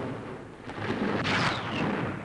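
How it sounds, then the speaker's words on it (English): A dull explosion from a Japanese bomb hit on a warship's afterdeck in 1942 rumbles up and swells briefly, followed by a lingering roar and hiss, moderately loud with no talking. "Suddenly, an explosion on the afterdeck"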